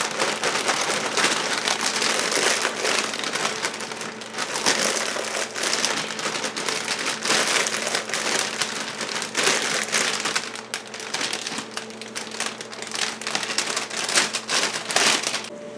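Food from a bag sizzles and crackles in butter in a hot pan while being stirred, a dense, steady hiss with scattered pops and scraping that runs without pause.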